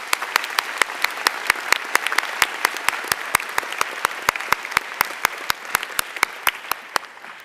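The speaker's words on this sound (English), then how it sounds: "Please give them a round of applause." Sparse, evenly spaced handclaps at a high school commencement ceremony, sharp and fairly close, carrying steadily for several seconds with no talk over them.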